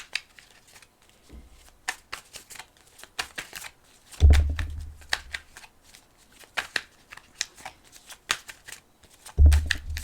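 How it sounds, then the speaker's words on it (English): Tarot cards are shuffled in quick riffling bursts of crisp, papery flutters, with a few heavier thumps as the deck is squared on a table, close and fairly quiet. "As I'm shuffling"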